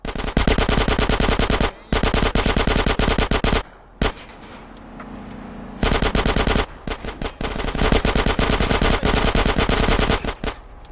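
Rapid automatic gunfire in GTA San Andreas Remastered, long loud bursts of machine-gun fire broken by brief pauses, with a quieter stretch in the middle before the shooting resumes.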